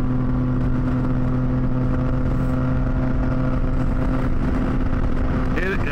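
A Triumph Tiger 660 sport-touring motorcycle engine drones steadily under throttle on a chilly ride, a loud constant hum with strong wind rush over it and no rise or fall across the stretch.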